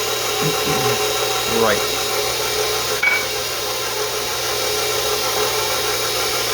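A stand mixer fitted with a dough hook works herb bread dough, giving a steady motor hum with faint scraping; one short spoken word is heard.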